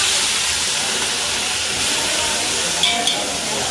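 Cumin seeds and ginger-chili paste sizzle in hot oil during home cooking, a steady bright hissing sizzle with a couple of small pops near the end, close and loud.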